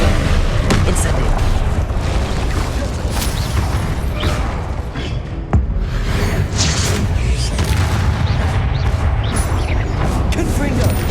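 Spell blasts and fiery explosions from the Hogwarts Legacy video game boom and crackle continuously in a dense, loud barrage, with sharp impacts cutting through while a voice calls out spell names.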